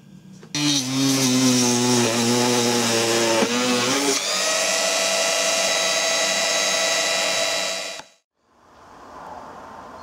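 A power saw cuts a wooden axe handle while cross-wedged axe heads are being fitted: a loud, close, whining motor that shifts pitch under load for about seven seconds, then stops abruptly, leaving a softer hiss.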